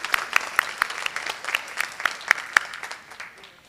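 A conference audience at a closing session in Albany gives a short round of applause for panelists, the claps sparse and distinct with some crowd murmur, fading out after a few seconds.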